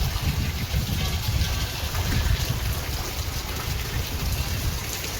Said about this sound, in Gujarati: જો વરસાદ એક ધારો કન્ટિન્યુ હમણાં આખી રાતનો ચાલુ છે.